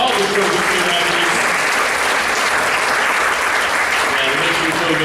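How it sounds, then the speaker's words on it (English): A crowd at an annual all-sports banquet applauds the student-athlete winners with dense, steady clapping that fills the whole room at an even loudness. "Let's give a round of applause for all the winners today."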